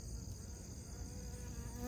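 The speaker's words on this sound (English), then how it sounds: "Busy bees." Bees buzz steadily and continuously in a garden, a dense, close swarm-like drone with no talking.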